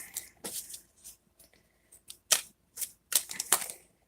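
Tarot cards drawn and shuffled from a deck make a sequence of crisp, close paper snaps and slides in irregular bursts, separated by short quiet gaps.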